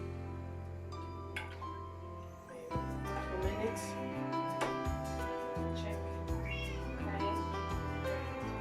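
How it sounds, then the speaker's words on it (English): A cat meows near a stove where prawns are boiling, the cries coming in repeated close calls over steady background music. "Excuse my cat, seriously, I think he's smelling the prawns already."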